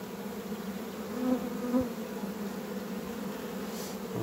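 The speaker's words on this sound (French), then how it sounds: "je vois qu'il y a pas mal d'abeilles déjà." Bees swarm around a hive as a recovered swarm is settled into it, giving a steady close drone with two brief louder buzzes as individual bees pass near.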